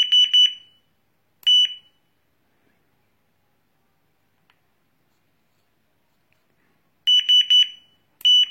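A Freedom Camo 3D metal detector set to level 3 gives short, high electronic beeps in quick clusters, close and clear. Three bursts are separated by long silences.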